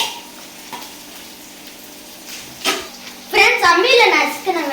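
Green chilies dropped into hot oil for a village-style rabbit gravy, giving a soft steady sizzle that flares louder midway, with people talking over the later part.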